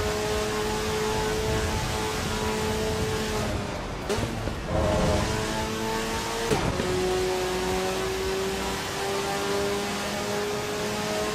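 A race car's engine in the Assetto Corsa EVO driving sim revs and holds a steady, buzzing multi-tone drone, loud and continuous, with two brief dips around gear changes midway.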